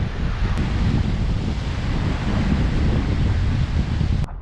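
Fast-flowing water in a wilderness river rushes loudly and close by, a dense, steady roar with no talking.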